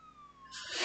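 A siren-like alert tone in the Roblox game Liberty County, signaling an incoming call, starts as faint steady tones and then swells into a loud, harsh wail over the final half second.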